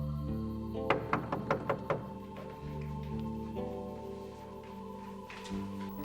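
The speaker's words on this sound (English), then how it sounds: "But Peter kept on knocking." Five quick, evenly spaced knocks on a wooden door in a biblical drama scene, Peter knocking at a house gate, moderately loud over a soft sustained musical score that continues afterward.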